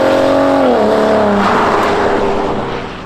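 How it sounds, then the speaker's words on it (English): A 2022 Ford F-150 Raptor with its 3.5-liter twin-turbo EcoBoost V6 revs hard, its tone sweeping through gear changes into a loud, roaring pull that then trails off slightly, with no talk over it. "You're assaulted with spool noise from the turbos up front, and there's just so much theater and drama when you step on the accelerator."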